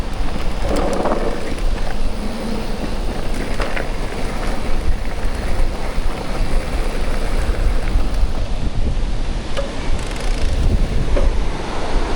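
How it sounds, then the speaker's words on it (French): Strong wind roars against the microphone during an eMTB ride in the Alps, a continuous loud rumbling buffet that never lets up across the whole stretch. "Beaucoup de vent"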